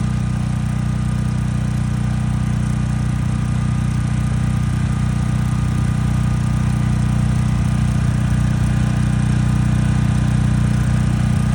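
Portable generator running inside a DIY sound-muffling shed, a steady low droning engine hum with a muffled tone, continuous and even throughout, no speech.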